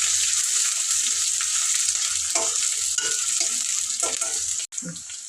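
Onions and green chillies with curry leaves fry steadily in hot oil for a Sunday chicken curry, a continuous close sizzle with occasional stirring scrapes and a brief dropout near the end.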